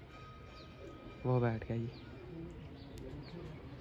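Pigeons settling on a net coo in a short burst of low, rounded calls, close and clear, with faint chirps and someone talking around them.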